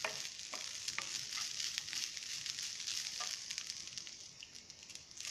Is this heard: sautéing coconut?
yes